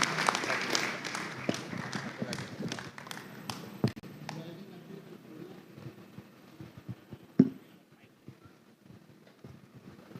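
An audience applauds the winners at a record-setting ceremony at a Hindu temple. The clapping is loudest at the start and thins into scattered claps, with a voice faintly underneath.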